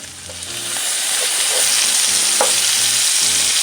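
Red cabbage cooks in a pot with garlic and onions, giving a steady, loud broadband sizzle that swells in the first second and then holds, with faint scraping stirs through it.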